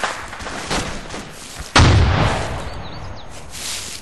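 A frag grenade detonation in ARMA 2 lands as one heavy booming blast midway through, rolling out into a long rumbling decay over a background of lighter distant battle noise, with no voices.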